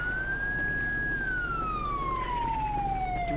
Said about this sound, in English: Can we turn this siren off?